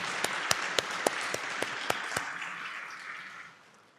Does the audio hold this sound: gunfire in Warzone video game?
no